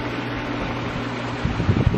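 Backyard pool equipment runs with a steady mechanical hum and broadband whir, joined near the end by a few louder low thumps and rumbles.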